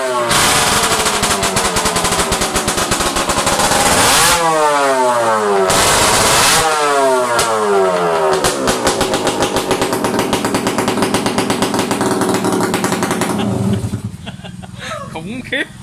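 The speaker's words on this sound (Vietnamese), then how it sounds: "chuẩn bị chú Tài nổ máy nha anh em, cảm nhận cái hơi nha" A motorcycle fitted with a modified exhaust fires up and revs, each blast cracking like rapid gunfire as the engine note climbs and falls through several loud sweeps, very close and harsh throughout.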